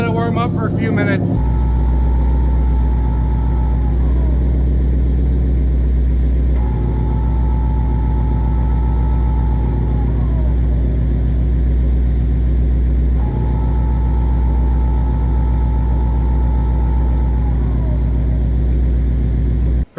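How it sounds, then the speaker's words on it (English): An idling car with a Ford MT82 manual gearbox drones steadily and close, a thin whine rising over the engine at intervals as the clutch is released and fading when it is pressed. "when the clutch is out, whining like crazy, and when I put it in, disengage it, the whining goes away"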